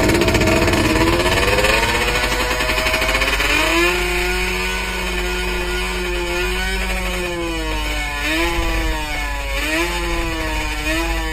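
A 125cc motorcycle engine runs on its own with a stuck throttle after the rider was stopped by police. It drones loud and steady, drops in pitch early, then wavers up and down with no speech.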